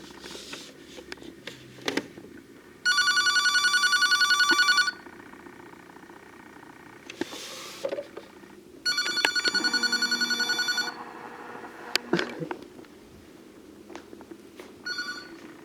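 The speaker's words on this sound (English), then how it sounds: "That's an actual phone, you guys." A landline house phone rings in two loud, sustained electronic bursts of about two seconds each, separated by a pause, with faint room noise and small clicks between the rings.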